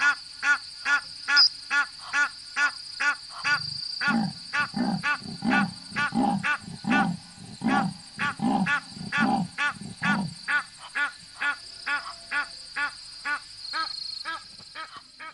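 A long series of rasping, sawing grunts repeats in a steady rhythm, building louder in the middle, like a big cat calling nearby.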